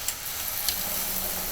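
Jalapeno and onion stuffed pork loin chops sizzle steadily in a pan, a continuous close hiss with a couple of brief pops and no talking.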